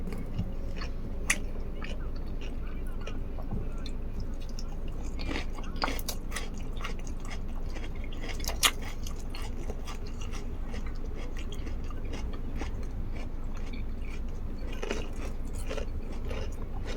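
Crunchy food is chewed at a home dinner table, with steady close crunching and biting, irregular louder crunches standing out over a continuous low background hum.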